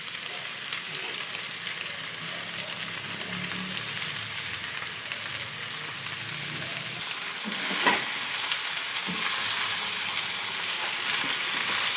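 Chicken sisig frying in a pan, a steady close sizzle with occasional scraping and stirring, continuous throughout with no talking.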